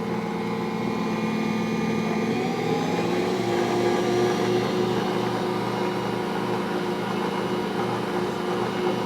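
Electric mixer creaming eggs, added one at a time, into brown sugar pound cake batter, a steady close motor whir with shifting pitch running continuously, no voices.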